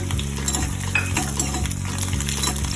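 Peanuts and green chilies frying in oil in a pan for tamarind rice, with a steady close sizzle, scraping stirs and faint utensil clinks over background music.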